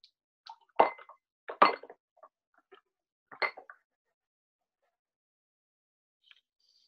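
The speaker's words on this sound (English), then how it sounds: "and strain it in a glass." Whiskey cocktail strained into a glass, heard as a few sharp glassy clinks and taps in quick bursts, close and clear, with quiet gaps between and a faint final tick.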